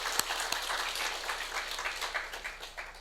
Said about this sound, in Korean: 박수를 한번 해드리시죠